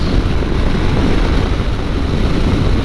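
Strong crosswind buffeting a Yamaha Tenere 700 motorcycle on the road: a loud, continuous roar of wind noise across the microphone, steady and unbroken, with the engine lost beneath it.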